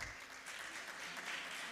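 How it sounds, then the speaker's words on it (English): An audience at an innovation-week conference event in Uganda gives a short round of applause, a dense, even patter of clapping hands that lasts under two seconds. "Yes, please, a round of applause."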